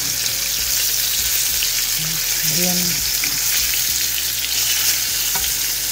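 Chicken breasts frying in a pan give off a steady, dense sizzle that runs through the whole stretch, with a few faint tonal clinks and scrapes underneath.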